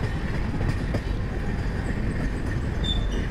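Passenger train rolling slowly toward SMVT Bangalore in the early morning, a steady rumble of carriages with faint wheel clatter and a brief high squeal, heard from on board.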